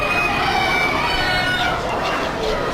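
A rooster crowing loudly on a recorded audio track, a strong drawn-out call filling the short stretch with farmyard background noise.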